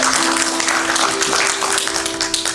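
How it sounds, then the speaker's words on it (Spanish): A church congregation at a Spanish-language evangelical service applauds, with steady dense clapping filling the room and a faint sustained tone underneath. "denle un aplauso al Señor"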